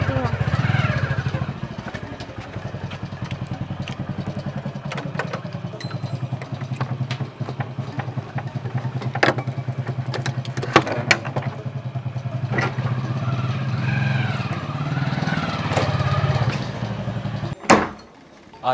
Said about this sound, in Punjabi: ਮੋਟਰਸਾਈਕਲ ਅੰਦਰ ਕਰਨ।